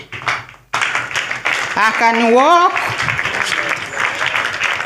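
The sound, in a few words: church congregation clapping for Jesus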